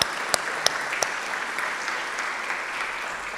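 Applause at a dinner celebrating a fellowship program's 25th anniversary, a steady wash of clapping from a seated crowd with a few sharp individual claps standing out near the start.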